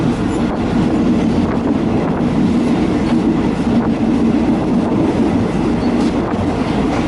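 Inside a moving train's dining car on the Nakhon Si Thammarat to Bangkok line, a loud, continuous low rumble rolls on with a rhythmic clatter of wheels on track and no voices.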